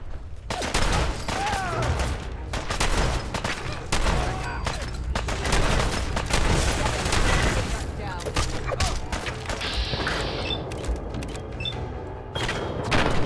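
Shotgun fire in the video game Fallout 4 booms in heavy, irregular bursts among other gunshots and thuds through a long, loud firefight, with a voice talking over parts of it.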